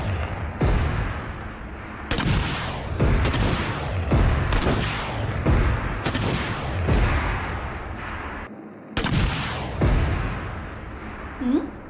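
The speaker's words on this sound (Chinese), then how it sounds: "你附近有枪声。" Gunfire in a battle royale video game comes as repeated loud, booming shots and bursts, spaced irregularly across the stretch, with short gaps between volleys.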